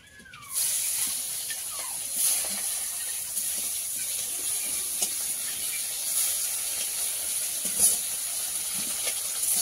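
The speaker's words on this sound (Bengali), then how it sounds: "আর তেলটাও গরম হয়ে গেছে। এবার মাছগুলো দিয়ে দেবো।" Small fish hiss and sizzle in hot oil in a wok over a stove, a steady moderate frying noise with a few faint clinks and spatters on top.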